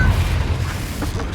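A Confringo fire spell bursts in the Hogwarts Legacy video game, a loud low boom with a rumbling tail that fades over about a second, with a faint voice underneath.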